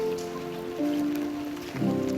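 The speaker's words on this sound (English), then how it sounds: "It is raining." Rain falling over Karachi, heard from a rooftop as a steady, even wash of drops across the whole stretch, with a low hum running beneath it.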